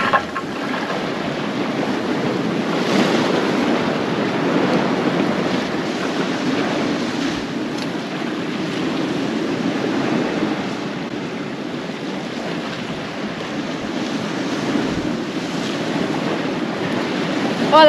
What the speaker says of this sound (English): Oh, that wind's picking up quite a bit.